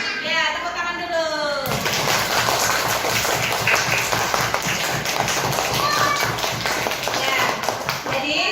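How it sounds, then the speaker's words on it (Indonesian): A classroom of students claps hands together in a loud, steady burst lasting several seconds, with children's voices and thumps mixed in, after a teacher's short spoken prompt. "Ya, tepuk tangan dulu."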